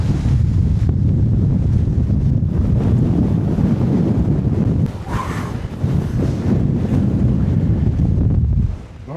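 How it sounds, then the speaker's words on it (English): Strong wind on top of Pendle Hill buffets the microphone with loud, continuous low rumbling gusts, easing briefly midway before roaring back, with no talking. "Man, it's crazy windy up here."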